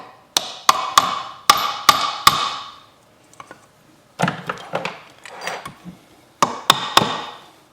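Light metal taps on a transmission part during a Yamaha YZ125 two-stroke motorcycle teardown: a few quick clusters of sharp clicks with short pauses between them, close and fairly quiet, with no talking.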